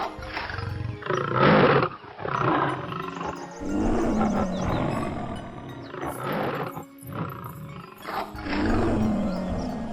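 Cartoon lion and tiger roaring and snarling as they fight, loud continuous growls and roars surging in bursts across the whole stretch, with no talking.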